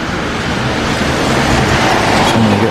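Heavy rain pouring down on a street by a Taco Bell in Crewe, a loud, dense, continuous hiss close to the microphone with a low rumble underneath, no voices.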